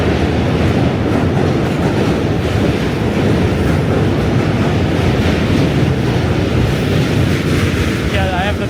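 New York City subway train riding the rails with a continuous loud rumble and rattling clatter, close and steady throughout, a faint squeal near the end.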